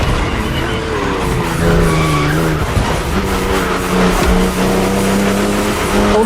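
BMW M2 and M4 race cars in The Crew Motorfest video game on a narrow, winding road, with loud sustained engine drone, shifting pitch, and tire skidding throughout, no talk.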